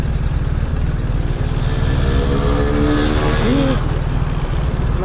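A BMW R1300 GSA motorcycle engine on a test ride gives a loud, steady low drone with rising and falling pitch as the bike revs, heavy rumble and wind throughout, with a brief voice underneath.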